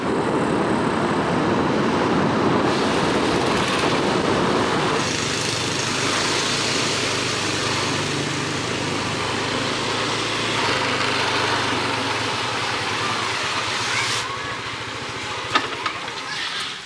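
A scooter's small engine drones steadily and loud throughout as it accelerates uphill, its pitch and load shifting slightly as it pulls, with wind-like noise over it.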